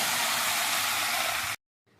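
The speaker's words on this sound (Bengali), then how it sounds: "ডালটা এখন জল দিয়ে ধুয়ে নেব।" A steady, loud rush of running water pours over roasted moong dal for about a second and a half, then cuts off abruptly, leaving only faint background noise.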